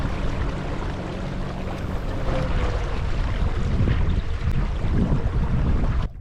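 Bonafide PWR 129 motorized kayak under power at about 5 mph, 600 watts, moving across open water, giving a loud, continuous rush of water and wind buffeting close to the microphone, steady throughout before cutting off abruptly.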